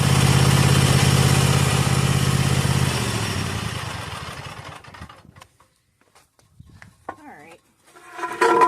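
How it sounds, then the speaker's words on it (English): A 2014 Cub Cadet XT1 Enduro lawn tractor engine running steadily close by, then dying away over a few seconds into near silence, followed by faint clatter and a short voice at the end. "ran the engine for a little while to warm it up a little bit"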